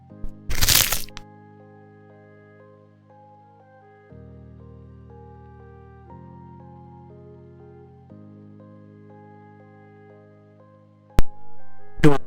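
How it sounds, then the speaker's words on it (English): Someone crunches on a rice cake close to the mic with a loud crackling bite at the start and sharp crunches at the end, while quiet electronic game music plays in between. "I'm eating a rice cake."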